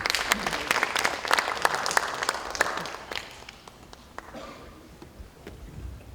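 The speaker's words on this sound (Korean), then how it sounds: "큰 박수 부탁드리겠습니다" At a Democratic Party lawmakers' general meeting, the room breaks into applause with sharp individual claps standing out, strong at first, then thinning and fading to scattered claps before a slight swell near the end.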